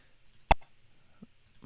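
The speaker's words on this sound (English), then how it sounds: "So if I click on print" A single sharp computer mouse click, close and crisp, with a fainter tick about 0.7 seconds later, in an otherwise quiet room.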